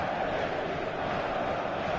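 A match-day stadium crowd fills the air with a steady, dense roar of many voices, broad and continuous throughout without any single voice standing out.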